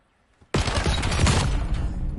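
Sustained automatic gunfire in the video game Black Ops 7, a sudden loud burst of rapid shots that continues without a break after a near-silent lead-in.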